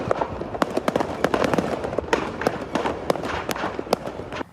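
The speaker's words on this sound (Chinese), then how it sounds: "还佫听到炮啊爆炸的声音" Firecrackers stored inside a burning joss paper factory in Yilan go off in a rapid, irregular string of sharp cracks and pops, some loud and near, over a rushing fire background.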